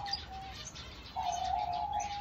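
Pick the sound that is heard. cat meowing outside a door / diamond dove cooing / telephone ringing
diamond dove cooing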